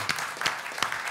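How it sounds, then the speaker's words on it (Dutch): Audience applause on a Dutch television music quiz show, a dense steady patter of many hands with a few sharper claps, fairly faint and heard alone for about a second. "Een groot applaus voor Stefano en Tivo."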